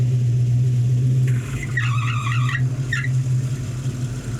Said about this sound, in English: That's Chad turning the air on. The compressor kicks in, it looks like.